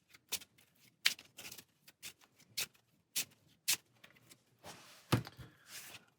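Deck of game cards being shuffled at a tabletop during a Star Realms Frontiers solo game, producing a series of soft, close riffles and taps ending in a brief louder flurry.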